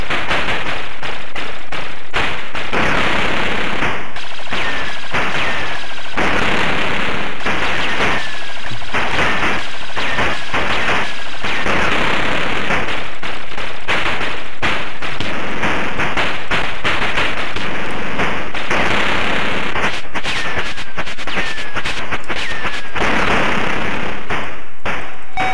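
Gunfire and grenade blasts from the arcade shooter Operation Wolf, played on a computer, come as dense, loud, rapid bursts of shots with occasional heavier explosions over a steady game backdrop and no talk.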